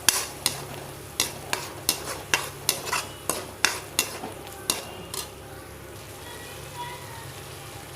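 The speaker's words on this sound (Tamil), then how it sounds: "அது கூட தக்காளி, சேர்த்து நல்லா வதக்குங்க" Tomatoes sauté in a pan as a spatula scrapes in a steady rhythm of about a dozen sharp strokes over a low sizzle, then the stirring stops and only the quiet frying remains.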